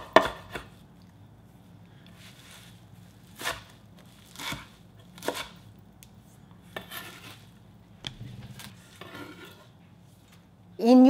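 A knife slices through rolled-up perilla leaves on a board in a quiet kitchen, separate soft chopping thuds spaced about a second apart with short pauses between strokes.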